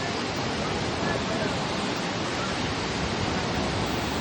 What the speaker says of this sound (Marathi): या आपल्या काय डुंगरवाडी वॉटरफॉलला बघू शकता